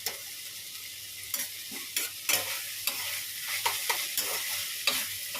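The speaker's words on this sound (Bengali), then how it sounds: "শুকনো লঙ্কা কালো দিয়ে পোড়ন দিয়েছি ব্যাস এই দিয়ে ভাজছি" Water spinach greens frying in a pan with garlic and dried red chilli, a quiet steady sizzle broken by frequent stirring scrapes and clatters against the pan, with no speech.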